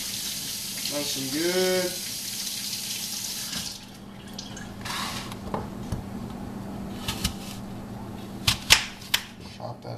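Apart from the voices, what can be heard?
running water washing an apple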